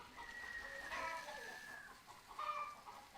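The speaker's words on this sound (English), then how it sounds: "World's laziest rooster." A rooster on a farm gives soft, drawn-out clucking calls, two separate bursts at moderate distance over a quiet background.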